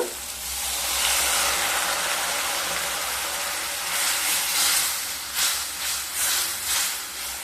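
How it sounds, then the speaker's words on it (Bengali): Spiced masala paste of ginger sizzles loudly in a pan, a steady hiss that swells in bursts as a little water hits and steams, with stirring pulses toward the end. "মশলা যাতে পুড়ে না যায় তার জন্য সামান্য জল দিয়ে দেব"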